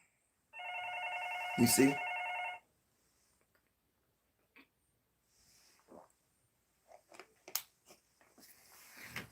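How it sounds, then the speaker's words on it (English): A landline telephone rings with one loud, electronic double trill near the start, then stops; someone speaks afterwards with scattered quiet clicks and noises. "Most people who ring that phone, we don't know them."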